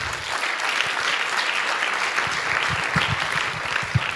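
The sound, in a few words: audience applause for panelist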